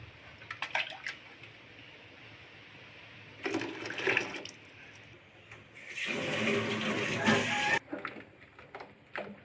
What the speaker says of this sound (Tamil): இப்போ இதில் ஒரு கப் தண்ணியும் சேர்த்துக்கலாம்